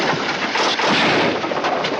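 Gunfire in a western film scene, a dense, continuous barrage of overlapping shots and reports, loud and close, with no clear gaps for the whole stretch.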